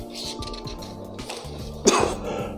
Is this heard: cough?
yes